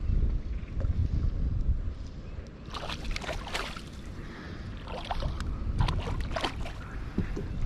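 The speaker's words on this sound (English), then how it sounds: "It is extremely windy." Strong wind on a lake buffets the microphone in a steady low roar, with gusty bursts and faint sloshing of water, no voices.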